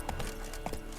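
Roach, the horse in The Witcher 3, clip-clops briefly at close range, a few hoof strikes rising above a steady layer of background noise.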